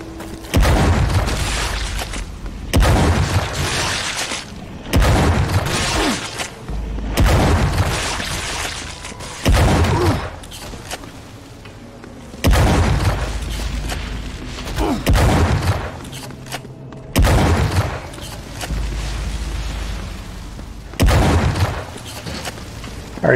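Repeated heavy shotgun blasts in the retro-style shooter Wrath: Aeon of Ruin, booming loud and close about every two seconds, each one followed by a short decaying tail, with game sounds between the shots.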